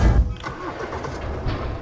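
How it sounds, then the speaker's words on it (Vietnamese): A car engine in the video game Tiny Robots Recharged turns over and starts, then keeps up a steady mid-pitched rumble as the car drives off. The sound is short, close and fairly loud, with a voice faintly underneath. "Chiếc xe chạy."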